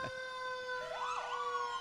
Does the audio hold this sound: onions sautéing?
no